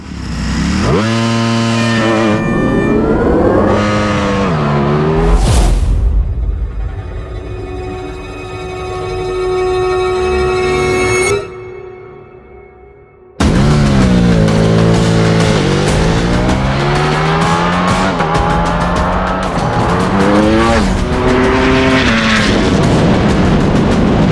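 A Ducati supersport motorcycle races hard, its engine revving loud and close through rising and falling gear changes, with a brief drop to quieter passing sound midway before screaming revs return for the rest of the stretch.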